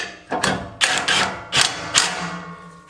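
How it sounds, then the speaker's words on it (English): A socket driver ratchets a bolt into a Tacoma demon bracket, giving several loud, sharp mechanical clicking strokes spaced a fraction of a second apart, close up and alone. "then start threading that bolt back on"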